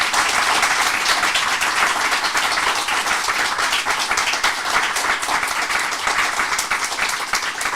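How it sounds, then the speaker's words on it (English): A live studio audience at a talk show gives a loud, sustained round of applause lasting nearly eight seconds, with dense, rapid clapping close up and a few individual claps standing out. "please give them a big round of applause to thank them"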